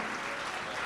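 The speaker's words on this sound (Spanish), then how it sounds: "Dale un fuerte aplauso al Rey de Reyes y Señor de Señores" Congregation applause in a church service, a dense steady wash of clapping filling the whole brief moment, no voices standing out.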